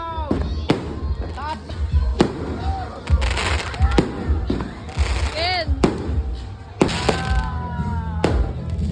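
New Year's Eve fireworks and firecrackers burst repeatedly nearby, with sharp cracks and whistling rockets over a constant background of distant explosions, while people talk throughout.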